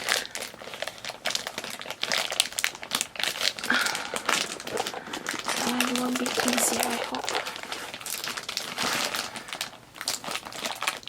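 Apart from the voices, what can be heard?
crinkling plastic zip bag being opened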